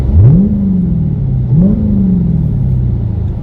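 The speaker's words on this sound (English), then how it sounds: "Let me do a couple revs." Loud, deep engine rumble from a widebody Dodge Hellcat with its muffler deleted, two throttle blips in track mode, each rising sharply in pitch then settling back to a raspy, unmuffled idle.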